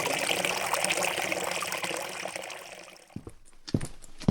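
Water runs steadily in a stream as someone bathes in it; the flow fades slightly, then a few brief, close splashes break through near the end.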